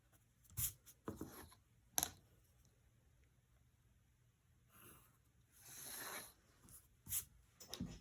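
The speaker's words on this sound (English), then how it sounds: "all we really have to do is draw a vertical line" Pencil drawing on paper for a one-point perspective room sketch, several short scratchy strokes and a longer drawn line, close and quiet with faint breathing between.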